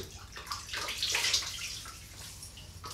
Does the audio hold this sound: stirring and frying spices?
no